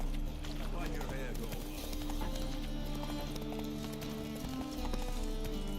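Roach, a horse in The Witcher 3: Wild Hunt, gallops with steady clip-clop hoofbeats mixed into busy game sound, with speech heard over it.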